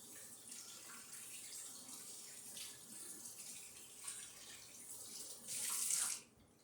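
Hot water runs from a tap for sanitizing wine-racking equipment at home, a steady soft hiss of flowing water that swells louder near the end before cutting off.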